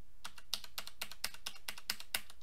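Typing on a computer keyboard during a Mount & Blade Warband game session: rapid, close clicking keystrokes in a steady, slightly uneven patter, with no talking.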